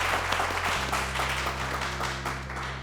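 A crowd gives warm, steady applause welcoming a company founder and CEO to the stage, with a low sustained hum of background music underneath the clapping.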